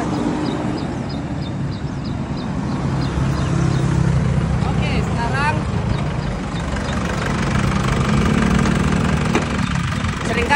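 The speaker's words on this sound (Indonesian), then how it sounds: "Ini mesin nyala ini ya," An Isuzu Panther boxy-body engine idles with a steady low rumble throughout, while a person talks over it nearby.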